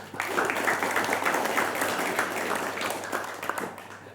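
A studio audience at a TVRI Sumsel television broadcast about badminton claps together, a moderate, fairly even patter of many hands that rises quickly and thins slightly toward the end.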